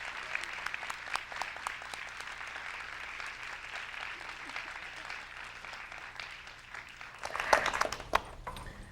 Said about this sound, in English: A warm round of applause, ladies and gentlemen, to our history makers.